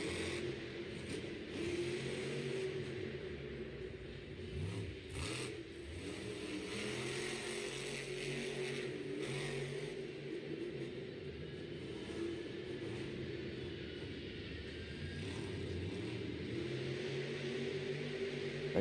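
Monster truck engines rumble and rev at a Monster Jam show in Syracuse, New York, in 2025: a distant, low, continuous roar that surges in a few places, heard faint with no voices over it.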